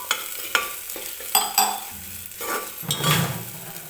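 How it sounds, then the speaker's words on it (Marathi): Green masala paste roasts and sizzles in hot oil while a spoon scrapes and stirs the pan, with clinking strokes over a soft fry. "तर हे वाटण जे आहे ते व्यवस्थित तेलामध्ये भाजून घेते मी सुरुवातीला."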